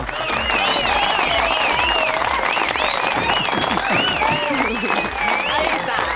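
A television studio audience applauds the show's technicians, a dense, steady wash of clapping over a lively crowd, with bright whooping or whistling voices rising on top throughout.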